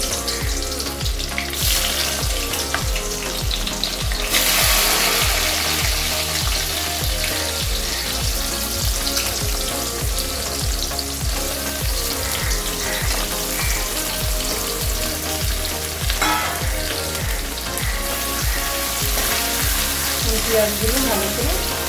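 Onions hit hot oil for chicken haleem with a loud, dense crackling sizzle that goes on for the whole stretch. Occasional stirring and scraping sound close up through the frying, and no one speaks.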